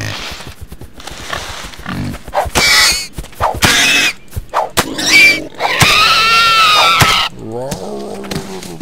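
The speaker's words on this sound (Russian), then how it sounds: "Свинюшка." A pig in the video game Vortex: The Gateway squeals and grunts in loud, close bursts, with short gaps between the calls and some game noise around them.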